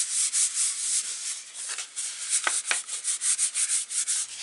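A plastic glue bottle rubbed back and forth over a paper gift bag to dome it, giving close, soft, rhythmic scraping strokes that pick up pace toward the end.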